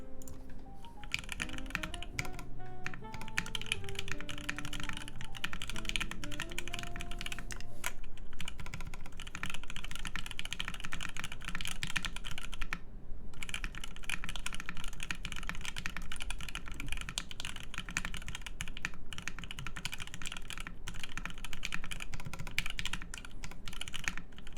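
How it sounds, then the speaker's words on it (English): Someone loosely typing on a keyboard during a custom mechanical keyboard build: a dense, continuous stream of close keystroke clicks, with brief pauses and light background noise. "Can you type a bit?"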